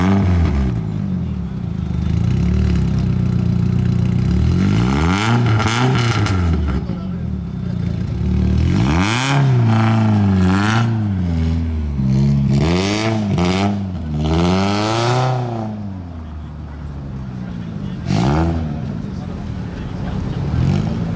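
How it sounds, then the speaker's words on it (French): A Peugeot 406 engine starts and revs loudly, its pitch sweeping up and down repeatedly over a steady rumble, with people talking over it. "il y a la 406 de Taxi qui va partir, il vient de démarrer, ça a fait un bruit de malade"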